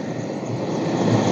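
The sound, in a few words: helicopter arriving with a patient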